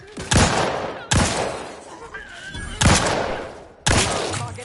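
Gunfire in Outer Worlds 2 comes as four loud, sharp volleys of shots at roughly one-second intervals, each burst trailing off into echo, with brief combat voice lines between.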